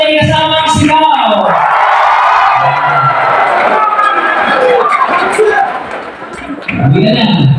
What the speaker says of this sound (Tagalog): pumalakpak ang may kasamang sigaw